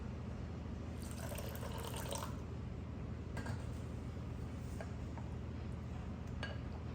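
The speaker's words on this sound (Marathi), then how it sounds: "अजून थोडे आपण पाणी टाकू" Water is poured in bursts into a semolina and pumpkin batter for chilade, a thin trickling splash running a couple of seconds under a steady low background hum, with smaller drips and clinks following.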